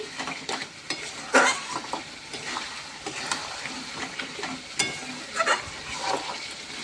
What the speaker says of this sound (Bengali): এবার একটুখানি জল দিয়ে নাড়াচাড়া করে নিচ্ছি